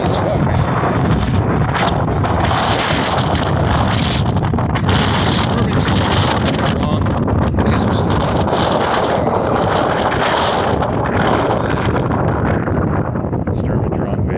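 Strong gusting wind buffets the microphone outdoors, a loud continuous roar with rumbling surges throughout, while someone talks over it.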